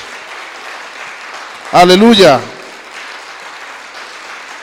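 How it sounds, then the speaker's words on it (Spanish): A church congregation applauds during a sermon as a steady wash of clapping runs throughout, while a voice briefly calls out loudly over it. "Aplauda al Señor, alábelo."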